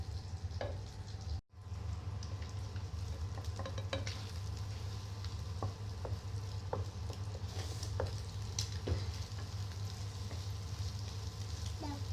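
Noodles stirred in a frying pan, a steady loud sizzle with scraping stir strokes and small clinks running throughout, briefly interrupted by a short gap.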